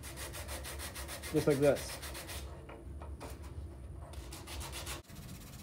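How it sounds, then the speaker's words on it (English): A wooden puzzle is sanded by hand with 120-grit sandpaper wrapped around a sanding block, giving repeated close, soft rasping strokes, with a brief spoken remark over the rubbing. "I'm going to start with 120 grit on a sanding block"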